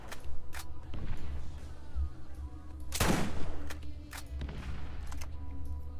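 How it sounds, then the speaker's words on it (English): Weapon fire in Borderlands, with a series of sharp separate shots and one bigger, broader blast near the middle, moderately loud against a steady low game background. "Why do the rockets feel so slow?"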